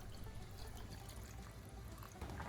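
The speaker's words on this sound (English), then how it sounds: "Add enough water to cover them and bring them to a boil." Water poured into a pot of potatoes makes a steady, continuous trickling stream, faint and close, with no voices.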